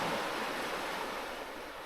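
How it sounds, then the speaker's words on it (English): Ocean surf breaking near a jungle trail in Mindanao, Philippines, a steady broadband wash of waves with no voices, moderately loud and continuous throughout. "It can only mean one thing. We've made it to the ocean here."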